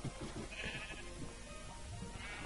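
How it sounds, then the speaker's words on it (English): Faint Minecraft sheep bleats sound in the distance against a low background hiss, a couple of short wavering calls with no talking. "I can still hear sheep"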